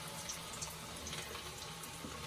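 Pakoras frying in hot oil after a splash of water, a soft, steady sizzling hiss with faint crackles running throughout, low in level and without speech.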